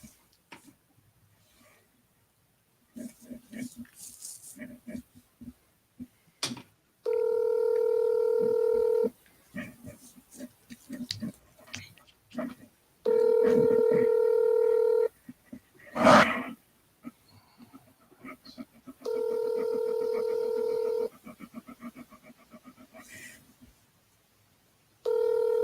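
Telephone line tones on calls placed to a live agent: several long, steady ring bursts about two seconds each, separated by quieter gaps filled with short clicks, beeps and a brief louder burst.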